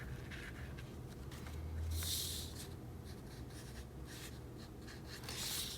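Coloring a drawing of the Fortnite giant duck, heard as faint, continuous soft scratching of a coloring pencil on paper, with a couple of slightly louder strokes.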